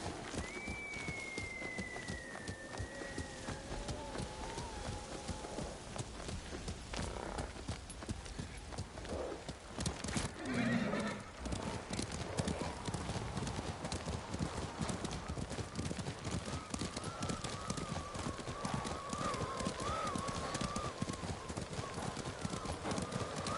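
Horses clip-clop steadily on a path in a medieval video game, hooves beating in a brisk, continuous rhythm over rain and faint neighs, with a short louder thump midway.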